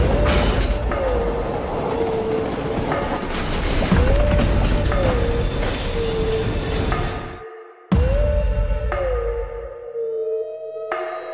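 A train brakes to a stop with a long, steady metallic wheel squeal over a heavy rolling rumble. It breaks off briefly, then resumes and slowly fades.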